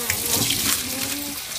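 Dyed dinosaur eggs get rinsed under a running kitchen tap, with a steady close splash of water pouring onto the eggs and into the sink throughout.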